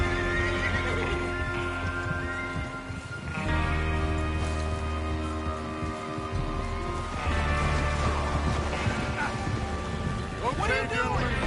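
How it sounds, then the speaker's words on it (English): Horses whinny repeatedly in Red Dead Redemption 2 while hooves clop steadily beneath, a loud continuous scene with several animals nearby and a long neigh near the end. "Get your horses ready."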